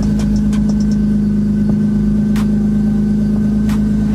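A BMW E46 with a low battery idles after a slow start, its steady low engine drone running loud and continuous with a few faint higher clicks and ticks over it.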